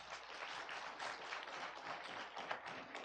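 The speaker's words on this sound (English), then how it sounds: "Can we give them a clap?" Conference audience at an environment and land court climate justice gathering giving a round of applause: a faint, distant, continuous wash of many hands clapping, steady throughout with no talk.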